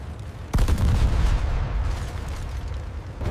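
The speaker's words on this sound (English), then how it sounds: "The German empties his cannon ammunition into the Thunderbolt." A sudden heavy burst of rapid German aircraft cannon fire rings out after a brief lull, aimed at a P-47 Thunderbolt, followed by a dense, rumbling roar that lingers and slowly fades.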